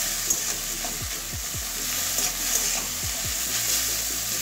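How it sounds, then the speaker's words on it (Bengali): Egg and boiled chow mein are mixed together in a hot pan for homemade egg chow mein, with repeated scraping strokes of a utensil over a constant bright sizzle, close up and without speech. "ডিম আর চাউমিন ভালো করে মেশাতে হবে"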